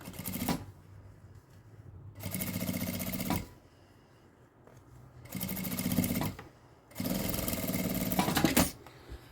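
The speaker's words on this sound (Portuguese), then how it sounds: "vou passar uma costurinha de meio pé de máquina aqui em toda essa curva" A sewing machine runs in four separate bursts of rapid, steady stitching along a curved coffee filter holder lining, with brief quiet pauses between runs; close and clear, with no talk.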